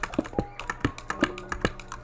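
Typing on a custom-built computer keyboard, with crisp close key clacks falling in a steady, fairly quick rhythm and no talking.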